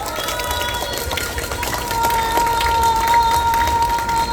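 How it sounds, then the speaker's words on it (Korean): A crowd at a political rally at Gwanghwamun in Seoul applauds, with steady dense clapping and cheering throughout that swells slightly louder halfway through. "다시 한번 힘내라는 박수 한번 합시다"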